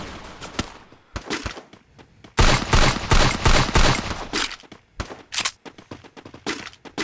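Gunshots in Free Fire battle royale gameplay: scattered single cracks, then a dense, loud stretch of rapid automatic fire, followed by more spaced bursts, close and punchy with no talking.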